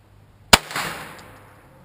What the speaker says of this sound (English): And first shot with the copper.